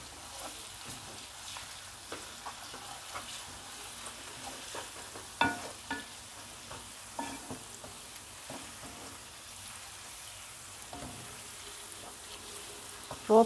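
Tomato paste frying with turmeric in a pot for a green lentil stew gives a soft, steady sizzle with occasional stirring clicks and taps, quiet and close, with no one talking.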